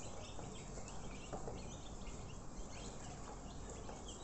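Flock of white broiler chickens clucking continuously in a poultry shed, a dense faint chorus of overlapping clucks and chirps with steady background noise and no talk.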